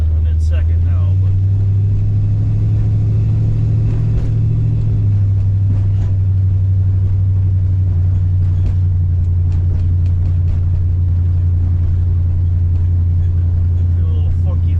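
A 340 Duster with a manual gate shifter drives along with a steady, loud low engine drone throughout, a few faint clicks and shifts on top, and someone talking over it.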